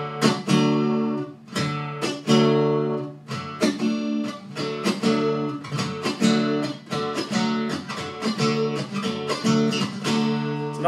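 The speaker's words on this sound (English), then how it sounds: "one downstroke, and then a combination of down and up" Acoustic guitar strumming that pairs a muted downstroke with quick down-up strokes, repeating evenly and close-up over about eleven seconds without talk.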